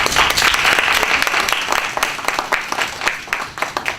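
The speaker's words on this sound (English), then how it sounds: "Please give them a round of applause, please" A room of people gives the diversity and inclusion week organizers a round of applause: lively, dense clapping, close and loud at first, thinning into scattered claps toward the end.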